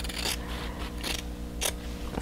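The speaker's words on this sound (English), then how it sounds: "I'm just going to use my scissors" Several crisp snipping cuts from scissors cutting quilting fabric beside a sewing machine, spaced irregularly and close by, with a faint steady hum underneath.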